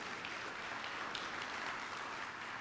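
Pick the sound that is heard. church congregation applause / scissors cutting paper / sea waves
church congregation applause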